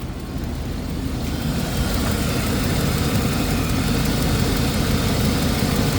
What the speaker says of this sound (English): I really like this Vortec by GM. They're a 6-liter V8.